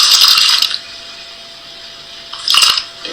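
Water is poured into a container in two separate bursts, a bright splashing gush at the start and another brief pour near the end, with a quiet gap between.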